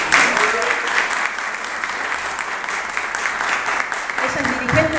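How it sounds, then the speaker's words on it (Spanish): Audience applause at a lecture on Marxism and women's oppression, steady clapping sustained for several seconds with voices talking over it near the end. "Por otro lado tenemos a Sol Dorín, también un fuerte aplauso."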